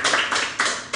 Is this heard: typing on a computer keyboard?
no